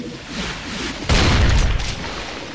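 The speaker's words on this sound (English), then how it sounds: "there's explosions in this game that are fantastic" Explosions and gunfire in the shooter game Brutal Doom: rumbling game action swells into a sudden heavy booming blast midway, with a dense burst of crackling impacts that then fades back to a lower roar.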